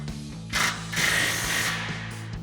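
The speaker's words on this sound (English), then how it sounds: "we're going to grab our 14 mil socket, tighten these down" A ratchet wrench with a 14 mm socket tightens bolts on the exhaust flanges of a Toyota Tundra dual exhaust, giving two bursts of clicking close by over a steady low hum.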